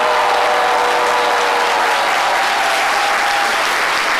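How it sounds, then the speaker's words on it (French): Dense, loud applause from a large audience at the Coupé Décalé Awards ceremony, sustained and even throughout the short moment. "Je demande des applaudissements."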